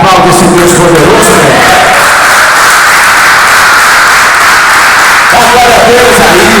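A church congregation breaks into loud applause that swells into a dense, sustained wash of clapping, with a speaker's voice heard before and after.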